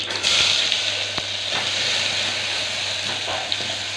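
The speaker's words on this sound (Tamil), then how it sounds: "நம்ம இப்போ அரைச்சி வச்ச விழுதெல்லாம் அப்படியே சேர்த்துக்கணும்" Ground paste goes into a hot pan with tempered mustard seeds for tomato rasam, setting off a loud, close, continuous sizzle with a few sharp pops and scraping stirs.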